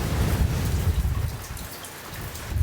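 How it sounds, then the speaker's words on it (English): A strong storm gust buffets a camper van out in the open as rain hits it, giving a dense, roaring wash of wind and rain that swells and eases, with no voices. "The wind is gushing through that way"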